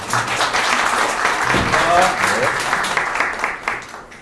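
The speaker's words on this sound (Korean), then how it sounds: "이상으로 이영노님의 스피치 박수로 끝내겠습니다" Audience applauding after a five-minute speech, a broad, sustained round of clapping that swells in the middle, with a few faint voices mixed in, then gradually thins toward the end.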